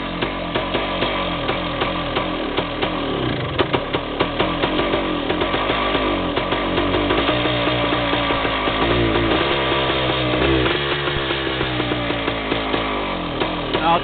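A Yamaha DT360A two-stroke motorcycle engine running with a rough, uneven idle, then revving up in ragged, buzzing surges, close and loud throughout.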